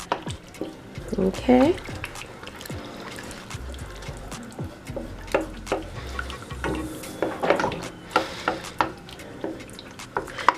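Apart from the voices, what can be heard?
stirring shrimp pasta sauce with salt until thickened and cheesy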